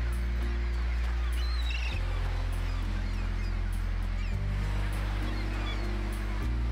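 Migratory seabirds calling on Fair Isle, faint honking cries scattered over a steady low rumble of wind and surf along the British coast.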